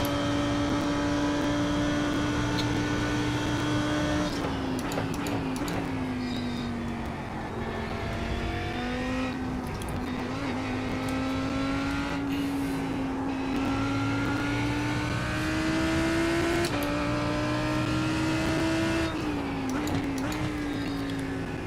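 Lamborghini race car engine on a practice lap at Spa, a loud sustained drone rising and falling through gear shifts and braking zones, heard from close by with no talking.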